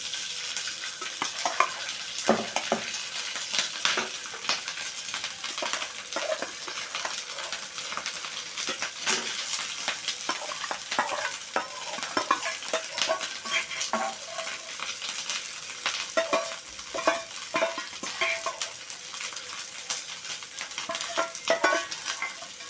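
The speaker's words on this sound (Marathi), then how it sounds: "आता मी हा भात ह्याच्यात टाकतो" Cooked rice fries in hot ghee for lemon rice while a spatula stirs and scrapes the pan, making a busy continuous sizzle dotted with frequent metallic scrapes and taps, close up and without speech.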